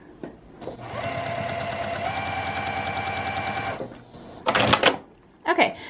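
Sewing machine running a steady straight stitch for about three seconds while quilting fabric strips onto a zipper pouch, a fast even mechanical chatter, followed by brief rustling handling noises.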